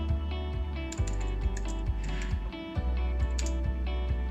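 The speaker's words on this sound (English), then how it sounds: "So I can go ahead and type that down, 13th of August" Fingers tap out a date on a computer keyboard in a short burst of close, crisp keystrokes at an uneven pace over a faint background hum, with no talking.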